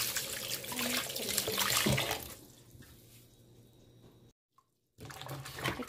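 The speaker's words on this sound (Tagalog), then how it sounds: "Hugasan nyo yung mabuti." Vegetables being washed under a running tap, with close splashing water that is loudest at first and then fades to a faint trickle. A brief silence follows before the splashing starts again.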